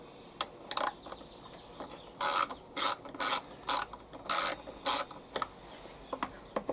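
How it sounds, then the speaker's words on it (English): An 8mm socket ratchet loosens small carburettor bolts on a HY3200SEI engine, giving a series of close, crisp ratcheting bursts in an uneven rhythm with short pauses between strokes. "So I'll just take an 8mm socket"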